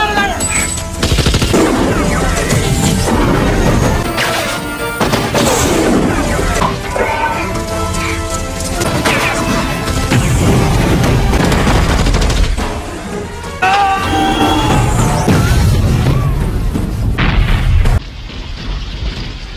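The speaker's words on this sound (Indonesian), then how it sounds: "Hingga pada akhirnya, terjadilah tabrakan antara tank Rambo dan heli tempur Kolonel Zaisen." A tank and a combat helicopter collide in a film scene: loud, chaotic booms and crashing mixed with rapid bursts of gunfire and dense rumbling action noise, continuous throughout.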